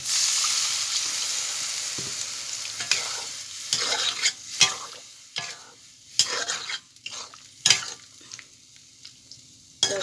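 Water poured into a sizzling taro flower curry in a pan sets off a loud hiss that fades, followed by a series of sharp stirring scrapes and clinks.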